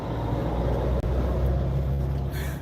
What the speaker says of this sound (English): I'm gonna wait till this truck pass real quick.